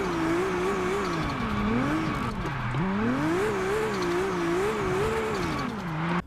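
A 2,000-horsepower drift car engine in a video game revs and wails continuously, its pitch rising and falling in repeated sweeps with a brief drop near the middle, loud and close with no talk.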